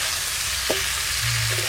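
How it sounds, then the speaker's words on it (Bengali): Vegetables frying in oil for khichuri, a dense, continuous hiss of sizzling heard up close, with a brief clink of stirring partway through and a low hum toward the end. "সব সবজি ভাজা হয়ে গেল,"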